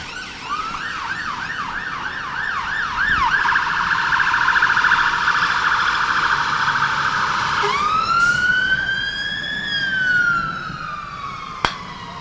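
A fire engine siren passes a European golf croquet championship final, first a rapid yelping warble, then a long rising and falling wail, loud and clear with no talk over it, ending with a sharp click.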